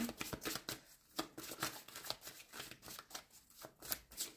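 Tarot cards being shuffled, a continuous close run of soft papery riffles and slaps with brief pauses, quiet and without speech.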